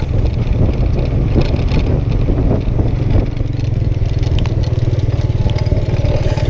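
A tuk tuk ride through Siem Reap, Cambodia, heard as a loud, constant rumbling small engine mixed with heavy wind buffeting against the microphone, with no break throughout.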